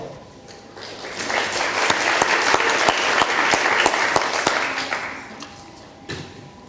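A room of people applauding at a women's soccer awards reception, clapping that swells to a full, steady burst, holds for a few seconds, then fades, with a few distinct sharp claps standing out.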